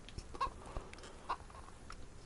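Chickens cluck in the survival video game DayZ, a flock giving a few short, sharp clucks at an even distance over a low ambient background.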